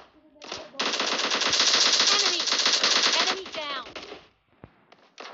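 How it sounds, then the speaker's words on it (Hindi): Rapid automatic gunfire in the mobile shooter PUBG Mobile Lite, from an M416 or AKM rifle: a loud, dense burst of rattling shots lasting about three seconds, followed by a few scattered single shots. "दो गोली में मरा।"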